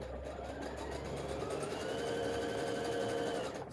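A sewing machine runs a pin stitch in one steady burst, its rapid needle clatter pulsing evenly with a motor hum underneath, close and moderately quiet.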